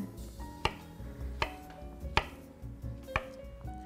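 A knife cuts bananas on a board in a home kitchen: four sharp, separate chops land roughly every three quarters of a second over a quiet background.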